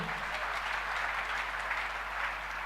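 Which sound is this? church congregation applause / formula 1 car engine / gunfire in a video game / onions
church congregation applause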